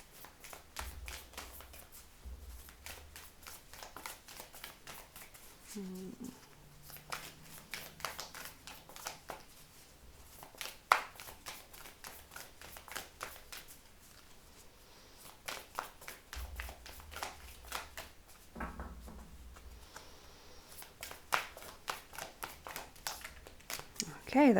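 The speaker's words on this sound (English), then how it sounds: "that one took a lot of shuffling" Tarot cards are shuffled by hand over and over, a fast soft riffling and flicking that runs in steady bursts for a long stretch, quiet and close, with occasional taps and a few brief low bumps.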